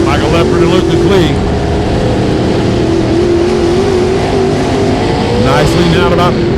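Dirt modified race cars roaring around the Brownstown Bullring dirt track, a loud continuous engine drone with rising and falling revs, a race commentator talking over it throughout.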